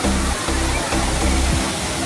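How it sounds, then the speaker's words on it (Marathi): The Dhangar waterfall near Badlapur, about 75 feet high in rocky forest, roars as a loud, continuous wash of falling water that fills the whole brief stretch without pause. "खाली कोसळणाऱ्या पाण्याचा सुखद आवाज"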